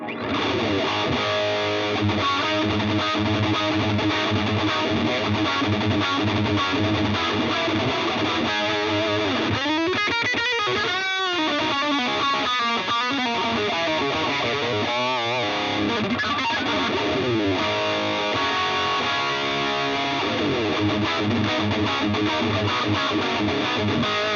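An electric guitar plays through an Engl Powerball distortion pedal, heavily overdriven chords and riffs with delay repeats and amp reverb, loud and continuous with a brief sustained, ringing passage midway.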